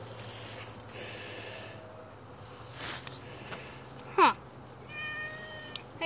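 A cat in the game Minecraft gives a clear rising meow partway through, loud against a quiet backdrop of steady game ambience and insect-like hum, with a faint voice nearby.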